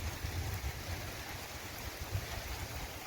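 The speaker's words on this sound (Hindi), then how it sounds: "ये देखें जी सऊदी अरब में बारिश आज फिर हो रहा है" Rain falls steadily in a Saudi Arabian village, a soft, continuous patter and hiss at low level with faint low rumbles underneath and no voices.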